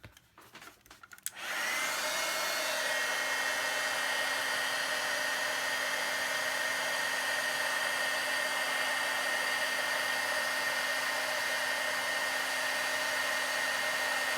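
After a few brief clicks and handling noises, a heat tool switches on and blows steadily, heat setting shimmer embossing powder on cardstock. Its loud, even whirring hum continues uninterrupted to the end.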